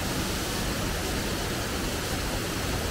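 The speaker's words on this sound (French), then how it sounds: "Et voilà la troisième et dernière cascade." A waterfall in Panama, the third of several visited on a rainy day, roars as a dense, unbroken rush of falling water, loud and steady across the whole stretch with no voices.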